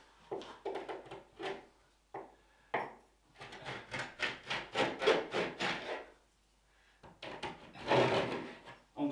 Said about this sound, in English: so let's give it a rake